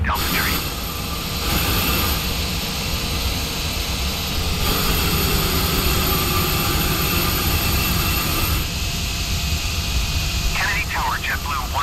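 A Virgin Atlantic Airbus A330 jet taking off from New York JFK in Microsoft Flight Simulator 2020, a steady loud engine roar running throughout with air traffic control radio chatter layered over it.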